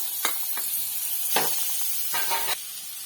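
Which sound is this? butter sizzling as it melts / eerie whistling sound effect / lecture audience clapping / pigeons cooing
butter sizzling as it melts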